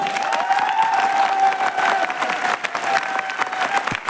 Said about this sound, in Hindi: ताली हो जाए जोरदार एक बार।